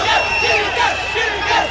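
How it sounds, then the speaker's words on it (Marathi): Supporters of Thalapathy Vijay celebrate after a political win, with a close, loud crowd chanting and shouting in rhythmic rising calls. "त्यामुळे थलपती विजय यांच्या कार्यकर्त्यांनी आता जल्लोष सुरू केलाय."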